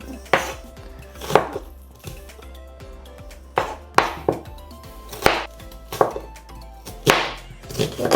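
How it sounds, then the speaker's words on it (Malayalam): Knife chopping food on a board while cooking prawn biryani: uneven bursts of loud, close chops, several strokes each with pauses between, over a faint low hum, with no voices. "എങ്ങനെയെങ്കിലുമൊക്കെ അങ്ങ് അരിയാം അല്ലേ? നമുക്ക് നീളത്തിരിക്കാം."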